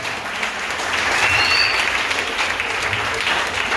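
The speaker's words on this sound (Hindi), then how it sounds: "तालियां हो जाए।" A church congregation claps together in steady, dense applause that swells slightly and holds for several seconds, loud and close, with no voices standing out.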